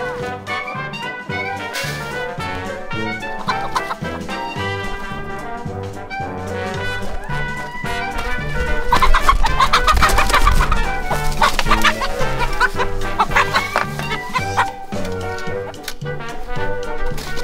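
Backyard chickens clucking steadily and loudly throughout, a busy flock with overlapping calls that swell in the middle, with no talk.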